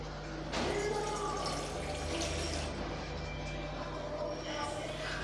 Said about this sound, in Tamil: அதில் 1 கிளாஸ் அளவு நான் தண்ணி சேர்த்துக்கிறேன்.